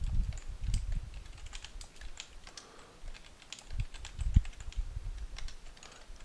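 Typing on a computer keyboard while filling in a name field, bursts of quick clicking keystrokes close up, with soft low thumps and brief pauses between runs.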